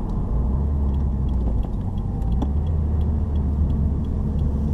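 A 2015 Subaru WRX accelerates hard in third gear, its engine a steady, loud, continuous rumble and drone with road noise close by throughout, no voices.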